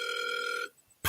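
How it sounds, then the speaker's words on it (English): Telephone tone sounding steadily for about two-thirds of a second, then stopping, followed by a brief quiet gap and a sharp burst. "All right, it's ringing"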